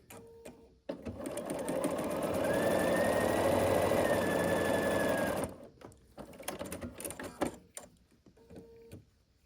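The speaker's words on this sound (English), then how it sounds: "Match them at the bottom corner, and then sew across the middle here." A sewing machine stitches across quilt half-square triangles, a fast close whirring run of about four seconds that stops abruptly, followed by light handling clicks and rustles.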